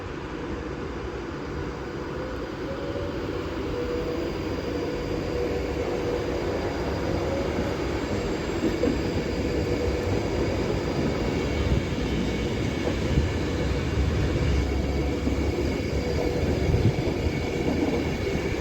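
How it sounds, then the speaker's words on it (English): Avanti West Coast train 39154 pulling out of Stafford station on the West Coast Main Line, a steady loud low rumble and drone that builds slightly as it departs. "now getting ready to depart is 39154 with the 1552 Avanti West Coast service to London Euston."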